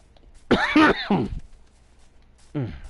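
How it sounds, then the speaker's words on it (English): A man coughs twice in quick succession at close range, the second burst rougher and throat-clearing in character, followed after a short pause by one more brief cough, with quiet room tone in between. "Just a cough."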